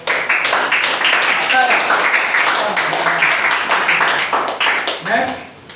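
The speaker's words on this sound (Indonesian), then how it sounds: "Tepuk tangan dulu untuk" Classroom applause from high school students in a lesson, a short burst of clapping with voices talking and calling over it throughout, fading near the end.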